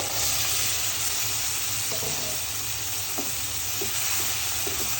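Dried chela fish and chopped jackfruit seeds hiss in hot spiced oil, a dense, loud, continuous sizzle with a few soft stirring knocks, no voices.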